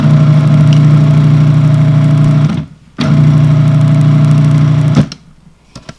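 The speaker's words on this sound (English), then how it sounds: "I'm just going to put the top on and pulse this just to mix it up" A food processor pulses flour, sugar and salt in two loud, steady bursts of motor hum, each running a couple of seconds and stopping abruptly, followed by faint quiet.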